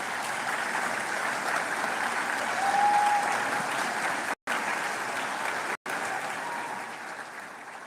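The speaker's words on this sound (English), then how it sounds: "with a resounding round of applause, show some appreciation" Sustained audience applause fills a graduation ceremony hall, a steady dense wash of clapping from a large crowd with no speech over it, holding loud and even for several seconds with two brief dropouts.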